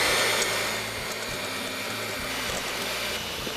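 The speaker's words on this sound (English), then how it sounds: "Right now I'm using an electric mixer for all of you at home that don't have the stand mixer" Electric hand mixer whipping cream or egg whites toward soft peaks, a steady continuous motor whir with a low rumbling beat, close and fairly loud throughout, no voices.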